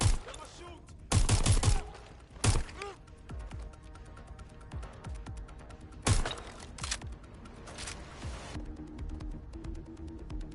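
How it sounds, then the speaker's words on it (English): Video game gunfire in bursts and single loud shots, a heavy volley near the start, sharp cracks around two and a half and six seconds, then scattered rattling fire and background combat noise at a moderate, fairly close level. "Shots fired!"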